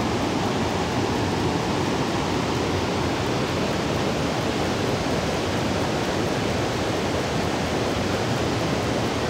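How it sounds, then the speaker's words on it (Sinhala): Asupini Ella waterfall in the forest, a continuous heavy roar of falling water, broadband and unbroken, loud and close with no voices. "මේක තමයි අපු පින් ඇල්ල."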